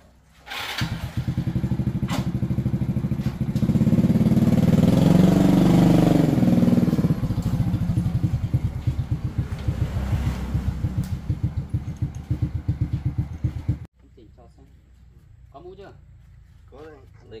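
A motorcycle engine starts up and runs, loud and close, swelling briefly as it revs, then settling into a steady putter before cutting off abruptly, with a voice heard faintly afterward.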